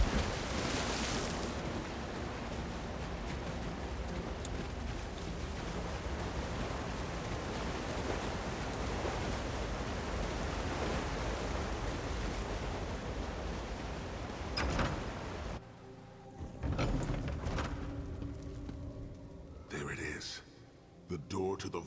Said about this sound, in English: Looks like we're in on a waterfall.